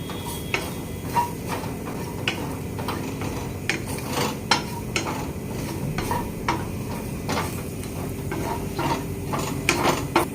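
A spoon stirring prawn roast masala with turmeric in a pan, giving irregular scraping clicks against the metal over a soft steady sizzle, close and moderately quiet, with no voices.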